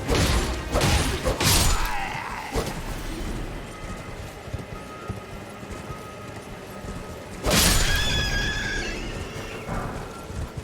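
A horse whinnies loudly and shrill near the start, then again around the middle, with hoof clatter and ambient game noise between, no talking, in the video game Elden Ring.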